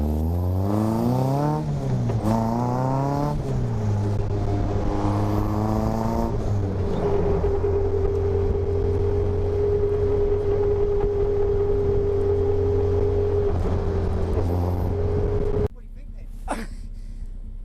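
MK Sportscars Raw Striker sports car accelerating hard, the engine note climbing repeatedly through gear changes before settling into a sustained high-revving drone, loud and close, then cutting off abruptly near the end.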